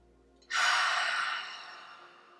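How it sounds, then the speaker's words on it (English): A single audible exhale through the mouth during a yoga practice, starting abruptly and trailing off over about two seconds, close and alone in a quiet room. "Inhale and exhale through the mouth"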